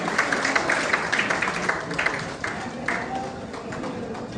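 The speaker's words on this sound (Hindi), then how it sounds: "इनके लिए जोरदार ताली होनी चाहिए" Committee members receive a burst of audience applause at a Hindi community gathering, dense steady clapping from a crowd that slowly thins out over a few seconds, with some voices mixed in.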